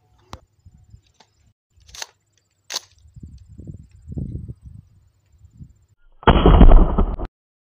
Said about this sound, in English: hold your breath, zero in, aim, and fire.